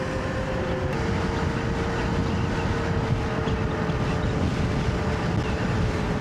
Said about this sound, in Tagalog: Mahangin, grabe.